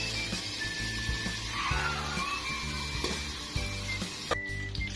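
Marinated Thai pork sizzling on a grill, a steady, close frying hiss that holds throughout, with faint background sounds underneath.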